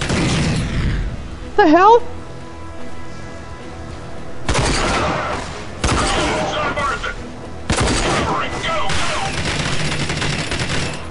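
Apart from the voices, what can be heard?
gunfire in video game RAGE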